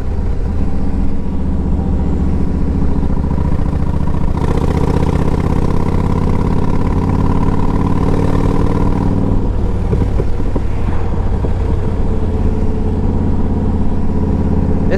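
A 2012 Yamaha Road Star 1700 motorcycle engine runs steadily and close by, a low, rumbling, continuous throb with no pauses and no voices.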